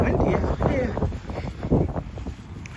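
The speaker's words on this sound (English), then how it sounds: "It's windy out here." Gusty wind buffets the microphone outdoors in a parking area, a steady low rumble with surging bursts running throughout the short stretch, close and fairly loud.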